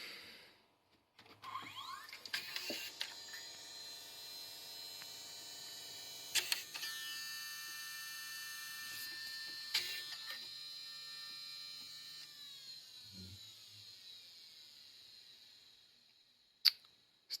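Faulty miniDV tape mechanism in a JVC HR-DVS2 S-VHS/miniDV combo deck running with a steady high whine and hum, punctuated by a few mechanical clicks and clunks, close and fairly quiet.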